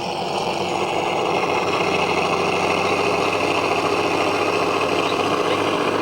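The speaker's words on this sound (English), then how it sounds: "this is a 1939 World War II trainer that was converted to a sport biplane, but the engine sound is to scale" A small engine of a model biplane, a scale 1939 World War II trainer converted to a sport biplane, runs steadily at high revs, a continuous buzzing drone with no pauses or change in pitch.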